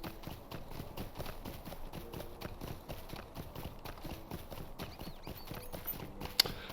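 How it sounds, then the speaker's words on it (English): Hooves clip-clop in a quick, steady rhythm as a horse is ridden in the video game LOTRO, the hoofbeats fairly faint against a quiet game background. "Then we can ride back to Reagan."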